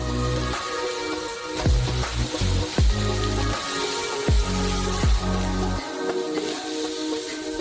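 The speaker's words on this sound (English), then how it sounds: "Now we pour 40 kilograms of sugar on top." Forty kilograms of sugar poured onto ten liters of corn syrup in a hefty saucepan gives a rushing, granular hiss with heavy low thumps coming in uneven bursts, close up and loud, with no talking.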